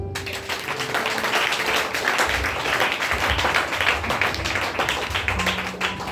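A church congregation applauding during a Sunday service: dense, sustained clapping from many hands fills the room steadily for several seconds, with no talk over it.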